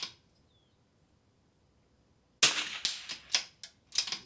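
Rifle shots crack at an NRL22 rimfire match, several sharp close reports in quick succession after a quiet stretch, some followed by faint ringing from steel targets.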